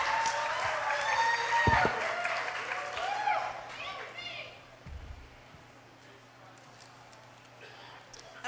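Audience applause at a 2018 political debate, loud at first and then fading out, mixed with voices from the room.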